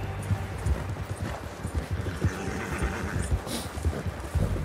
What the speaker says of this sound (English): if you keep hitting X to, like, make your horse go faster, you can see the bar going down